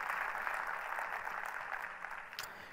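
Steady, dense applause from a large church congregation, sustained and even throughout with no pauses.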